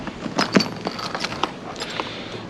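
A pair of keys for motorcycle saddlebag quick-release bracket locks jangle and clink in a few close, bright metallic bursts, with no talking.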